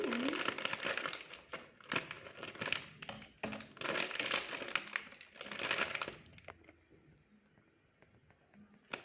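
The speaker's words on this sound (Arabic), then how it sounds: "هنجيب كيس الرز. معانا هنا رز الابيض" Close, busy crinkling and rustling of a plastic bag of white rice being handled, fairly loud for several seconds, then fading to a few faint rustles.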